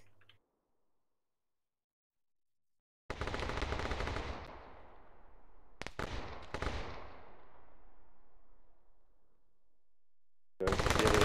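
Bursts of automatic gunfire in a capture-the-flag video game match: after a quiet start, a long loud volley rings out and decays, followed by sharp shots and another burst at the end.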